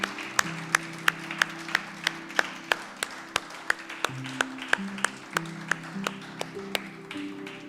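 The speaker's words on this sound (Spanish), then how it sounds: "Vamos a darle un aplauso al Señor," Rhythmic congregational clapping during a church worship service, steady beats about three per second over a sustained musical tone, fairly close and continuous.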